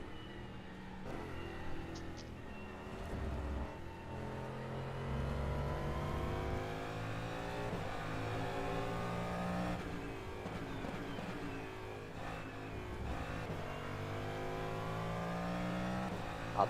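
A DPi hypercar races past at Road America in rFactor 2, its engine whine climbing and falling through shifting harmonics as it closes in and overtakes, loud and steady with a brief surge of revs.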